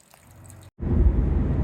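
Rainwater drains out of a fishing boat after an overnight downpour: a soft wet trickle, a brief silence, then a louder gushing, splashing flow that continues steadily.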